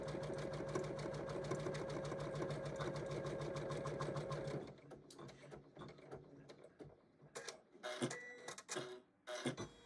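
An embroidery machine stitches a Christmas stocking in the hoop, humming in a fast, steady mechanical rhythm for several seconds before stopping, then leaving scattered clicks and rattles close by.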